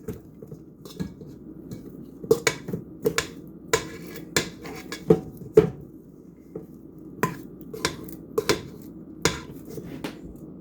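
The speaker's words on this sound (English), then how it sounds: "Just going to cream it into a margarine-like consistency." Four tablespoons of butter are creamed in a bowl for sweet potato pie filling, with a spoon or utensil knocking and scraping against the bowl in irregular clicks and taps up close, and no talking.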